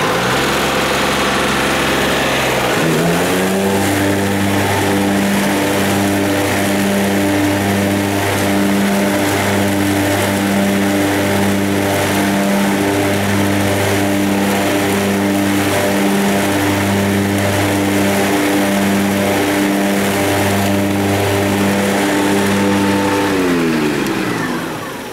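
A truck engine revs up hard and holds at high, steady speed to drive the suction for cleaning out a cemetery vault pump system, loud and close, with rhythmic pulsing in the drone and no talk.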